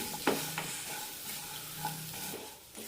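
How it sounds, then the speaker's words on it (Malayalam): Colocasia masala is stirred in a pan over a low flame, with quiet spatula taps and scrapes above a faint, soft sizzle, close by. "ലോ ഫ്ലെയിമിലിട്ട് നന്നായി വഴറ്റിയെടുക്കണം"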